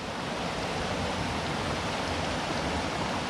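River water pours over a stone weir near an old mill in Cabin Wood woodland, Cookstown, County Tyrone, a steady loud broadband rush with no breaks and no voices.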